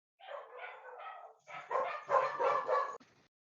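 Dogs bark indoors in two close, loud bursts, a short run of yips followed by a longer volley of sharper barks, with no talk over them.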